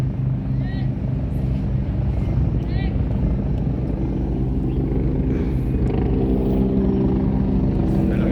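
Steady low rotor drone of a helicopter passing overhead, loud and continuous, with people chatting over it.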